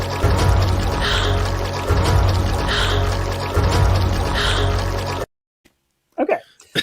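Loud, close rushing water flowing in reverse from an animated Raya and the Last Dragon scene, swelling in three looped surges before stopping abruptly, followed by brief faint voice sounds.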